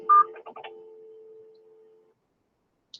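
Telephone keypad tones sound while a call is being answered: a loud short beep, a few quick dialing tones, then a long steady lower tone that fades out, followed by a faint brief blip after silence.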